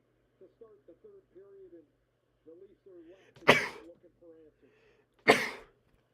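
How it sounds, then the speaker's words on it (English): A hockey live-commentary host's voice drifts along quietly, then two sudden loud sneeze-like bursts break in close to the microphone, a couple of seconds apart. "About to sneeze."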